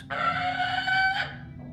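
A bird's harsh, crowing call in Lord of the Rings: Gollum, one sustained cry lasting over a second, loud and close, heard alone.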